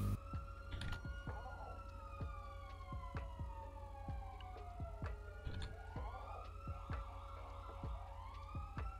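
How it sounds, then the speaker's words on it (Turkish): Police siren wailing in the distance, its rising and falling pitch sweeping repeatedly over a background of sharp rhythmic clicks, steady and fairly faint throughout. "Aa, bak siren sesi geliyor."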